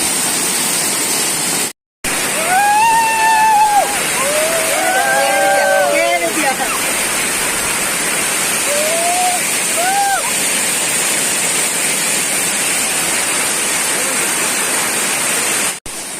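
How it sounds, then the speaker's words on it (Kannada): The Chamadka waterfall roars as a constant, loud broadband rush, with voices and shouts from friends on an outing rising over it in the first half, and a brief dropout near the start. "ತುಂಬಾ ಸುಂದರವಾದ ಪರಿಸರ, ಸುಂದರವಾದ ಜಲಪಾತ ನಮ್ಮೂರಿದು."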